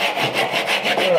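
Hand saw cutting wood for a mitered bridle joint, with close, loud, even back-and-forth rasping strokes in a steady rhythm of about six strokes and no talk.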